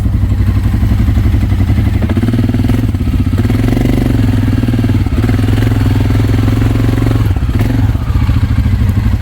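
An ATV engine fitted with aftermarket mud tires drones steadily and loudly on a hill as the wheels spin, with a constant rough mid-pitched note and occasional clattering thumps throughout.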